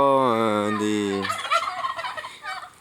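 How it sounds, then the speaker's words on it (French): Turkeys on an orchard farm gobble loudly, first one long rising and falling call, then a burst of quicker, rattling gobbles close by. "des dindes"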